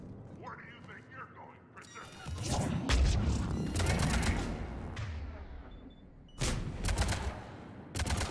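Bursts of gunfire from the video game Mass Effect 3 crack in rapid clusters, loud and close, mixed with a person talking quietly over the game's action.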